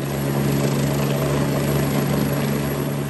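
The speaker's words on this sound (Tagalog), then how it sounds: "lumipad ang isang Augusta Westland 109 helicopter para sa maritime domain awareness at communication exercise" An AgustaWestland 109 helicopter lifts off from the deck of a Philippine Navy ship, the BRP Miguel Malvar, with a loud, constant engine and rotor roar close by and no voices.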